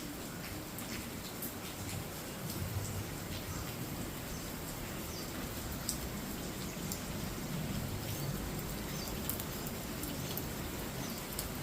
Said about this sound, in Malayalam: ഇവിടെ എപ്പോഴും മഴയാണ്.